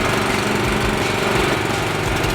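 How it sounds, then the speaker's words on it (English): A small gas motor on a farm sprayer runs steadily after being pull-started, a loud, continuous droning hum with no pauses and no talk. "See how quick he got that motor started? Takes a jerk."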